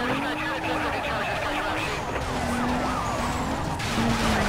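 A wailing police siren in the racing game Need for Speed: Most Wanted (2005) rises and falls steadily under engine and tyre noise during a chase, while someone talks over it throughout.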